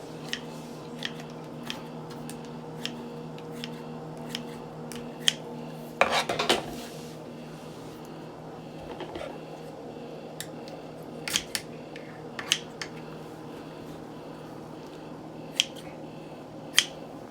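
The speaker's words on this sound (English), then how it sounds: "which I'm just going to trim off with some scissors." Kitchen scissors trimming excess caul fat off a game bird pâté, a series of sharp, isolated snips and clicks scattered over a quiet room hum, with a brief clatter of handling midway.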